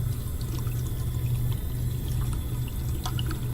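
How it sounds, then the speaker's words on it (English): A cold water tap left running halfway open in a house with a combi boiler system, a steady close rush and patter of flowing water with a low hum underneath. "Turn on a cold water tap halfway to imitate a low pressure period in a house."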